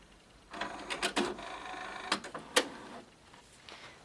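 A Cricut Imagine craft machine runs a print job on a card page, giving a series of short mechanical whirs, clicks and carriage movements at close range in a quiet room.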